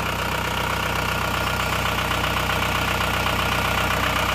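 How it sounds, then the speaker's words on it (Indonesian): A car engine idles steadily after three years sitting unused, a continuous close, even rumble with a faint rhythmic knock running through it the whole time. "Yang penting saat ini mesinnya sudah hidup dan suaranya juga bagus seperti ini"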